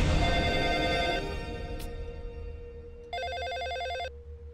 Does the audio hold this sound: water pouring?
no